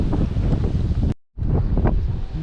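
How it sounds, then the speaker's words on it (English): Strong wind on the coast at Half Moon Bay during rock fishing, roaring loudly into the microphone as constant buffeting gusts that cut out briefly and then resume, with no talking. "Man, the wind out here is crazy."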